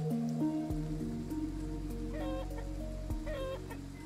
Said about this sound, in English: Are those chickens? They are chickens.